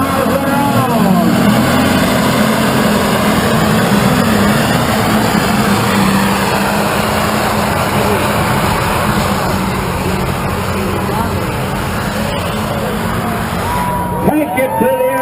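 A heavyweight super stock tractor roars down the track at a tractor pull, a loud sustained engine drone throughout with an announcer talking over it.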